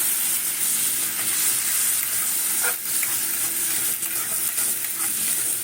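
Rinse water from a turmeric and spice bowl poured into masala frying in a pan for elephant-foot-yam kofta curry, giving a steady, close, even sizzle and hiss that runs throughout with one brief dip, and no talk.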